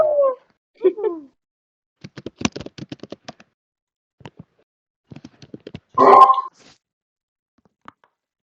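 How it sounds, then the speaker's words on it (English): Dogs yipping and whimpering in short bursts with a louder outburst near the end, fairly close, with pauses between. "Dogs being loud assholes."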